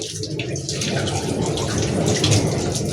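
Water poured steadily into a pot for mushroom pulao, a loud continuous splashing gush close by for the whole stretch with no talk.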